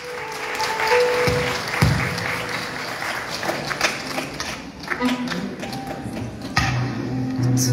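A concert audience at a conservatory summer concert applauds the singer with steady clapping mixed with a few thumps and taps, and voices and musical tones sound underneath.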